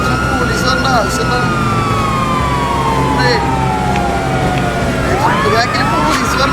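Police sirens chase close behind in GTA, Los Santos, their wails sweeping up and down continuously over loud engine rumble.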